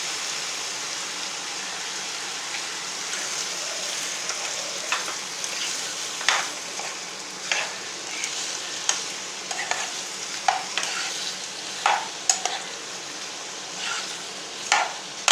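Chicken pieces, salted, fry in a pan for a Tamil chicken curry: a steady soft sizzle runs throughout, broken by sharp scraping stirs that grow more frequent toward the end, with no talking.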